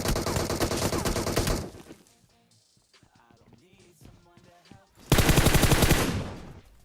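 Sustained automatic gunfire in the PUBG Mobile battle royale game, a long rapid burst, then a quieter stretch of scattered shots and game sounds, then another loud burst, close and dominant.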